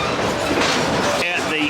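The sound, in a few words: diesel locomotive of Great Smoky Mountain Railroad train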